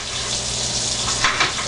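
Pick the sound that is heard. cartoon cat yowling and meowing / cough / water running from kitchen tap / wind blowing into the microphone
water running from kitchen tap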